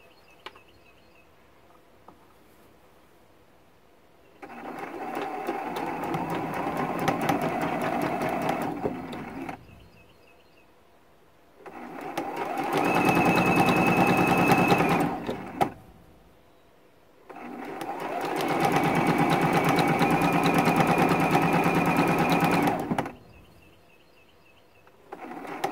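Sewing machine stitching sashing onto a quilt block runs in three long bursts of steady whirring, each several seconds, separated by short quiet pauses; close and fairly loud, with no talking.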